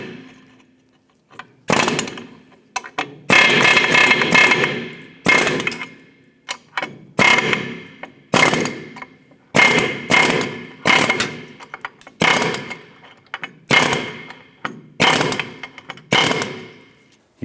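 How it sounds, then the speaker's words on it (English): Loud, rapid metallic chiseling in repeated bursts, a pneumatic hammer chattering against the rivets of a Chevy S10 upper ball joint, with short pauses between runs. "I'm just going to rivet these or chisel these smooth"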